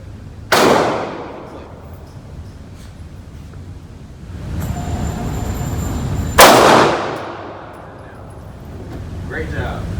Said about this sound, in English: fire 2 shots to the target